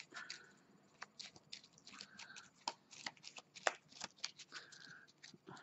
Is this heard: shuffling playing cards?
yes